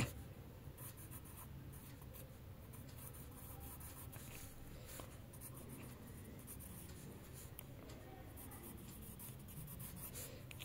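Faint pen-on-paper scratching as answers are written out during a maths lesson, a soft steady stroking close to the mic with no talking.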